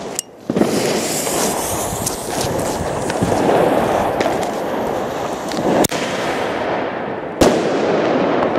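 A Jorge Thunder King firecracker, a new model this year in a loudness comparison of large firecrackers, goes off as a few sharp, loud bangs over a steady rushing crackle that fills the whole stretch.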